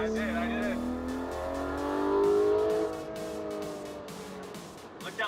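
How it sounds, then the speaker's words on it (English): A Porsche GT3 on a racetrack revs and accelerates with a rising, sustained engine whine, then eases off, while people talk over it. "I'm going to be taking around a GT3 for a few laps"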